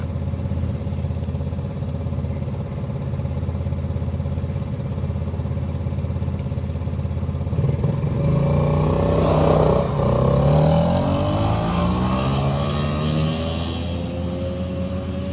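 A blown LS V8 idles steadily in a Ford Fairmont burnout car, a low continuous rumble that climbs into a rising rev partway through and then settles again, loud and close, with no talking.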